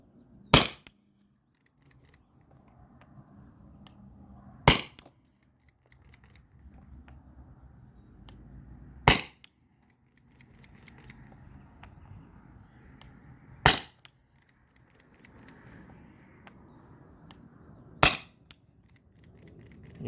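Byrna SD launcher firing into a chronograph: five sharp, loud shots spaced about four seconds apart, with quiet handling and rustling noises between them.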